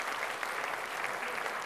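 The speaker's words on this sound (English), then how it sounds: "So a huge round of applause for them" Brief burst of steady crowd applause for event co-chairs at a library gathering, many hands clapping evenly at moderate loudness without a break.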